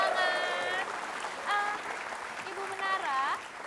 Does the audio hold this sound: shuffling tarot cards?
no